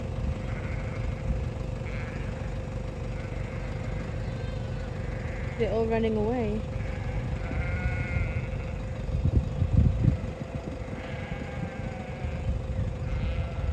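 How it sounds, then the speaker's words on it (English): Sheep bleat in a riverside field beside a campsite, a distinct wavering call around the middle standing out over steady outdoor background noise, with people talking nearby throughout. "Wow, this is a lovely place for the sheep."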